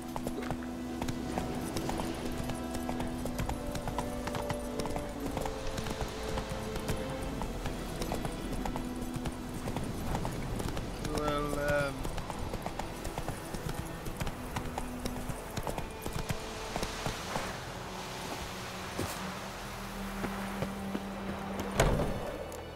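Roach, Geralt's horse in The Witcher 3 video game, walks with steady clip-clopping hoofbeats throughout, layered over game music and ambient background sound, with a brief louder knock near the end.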